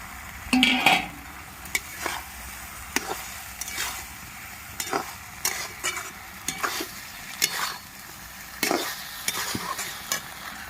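Fried okra is stirred into a pan of mustard and chilli paste, with a soft sizzle under repeated scraping spatula strokes and occasional knocks against the pan, close and unhurried.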